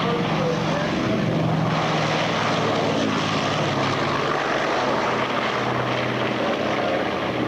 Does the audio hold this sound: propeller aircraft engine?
yes